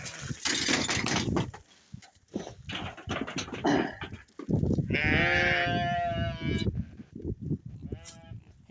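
Sheep and goats bleat in a few wavering calls over a noisy stretch of rustling and movement, with the loudest bleats near the end.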